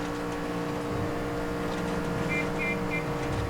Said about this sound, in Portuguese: O carro até faz até uns barulhos estranhos.